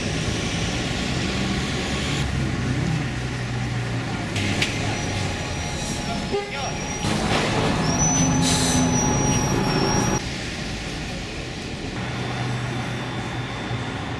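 A metro train moves through a station in Kyiv, Ukraine, with a steady loud rumble, a few high wheel squeals and shifts in the roar as it passes close by.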